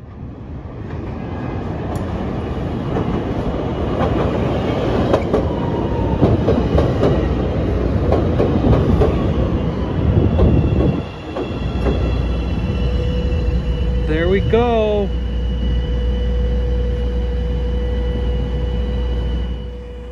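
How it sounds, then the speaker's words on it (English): A Chicago rapid transit train bound for UIC-Halsted pulls into a station with a loud, steady rumble and clatter. After a brief dip it settles into a low hum with a high wheel squeal and whine. A voice speaks briefly. "the train to UIC Halsted was hot on that train's heels"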